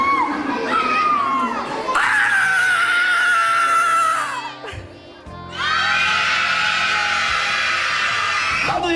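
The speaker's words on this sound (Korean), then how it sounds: "마지막 세 번째 소리를 지르는 거야." A church congregation, children among them, shouts loudly together in two long sustained bursts separated by a brief lull.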